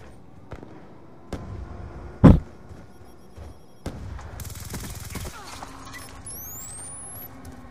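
Suppressed gunfire in a video game, a few dull muffled shots spaced apart, one much louder thump among them, followed by a dense rattling burst and a rising electronic tone.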